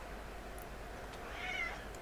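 A cat gives a single faint meow, rising and falling briefly over a low background hum.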